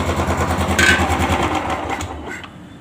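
A Royal Enfield Classic 350 BS6 engine with a knocking fault ticks over close by, a fast, even mechanical clatter that swells briefly and then eases off toward the end, with no talking.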